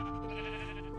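A single steady sheep bleat from the video game Minecraft, loud and sustained for about a second.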